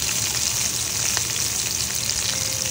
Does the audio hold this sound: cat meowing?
no